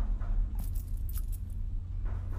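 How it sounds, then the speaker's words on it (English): Faint metallic jingle of keys being jiggled in the horror video game The Cursed Tape, a few brief clusters of clinks over a low steady ambient hum. "It sounds like he's jiggling the keys."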